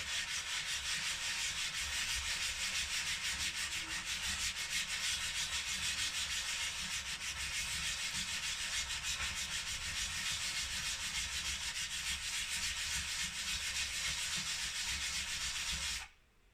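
Gardening scissors blade being sharpened with light, gentle pressure, giving a steady, continuous abrasive rubbing that stays close and even for about sixteen seconds before stopping abruptly.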